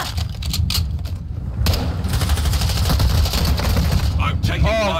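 Rapid gunfire bursts from a first-person shooter video game, loud and dense, with sniper rifle and standard gun fire mixed in, ringing out over continuous excited talking from players.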